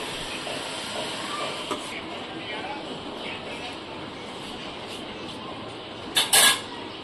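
Hot oil poured over rice flour for chakali dough gives a steady, soft hiss that runs throughout, with a brief louder clink of a spoon near the end.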